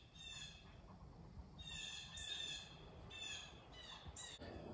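Small birds chirping and calling in trees, a few short bright bursts spaced apart, faint and somewhat distant over a low background rumble.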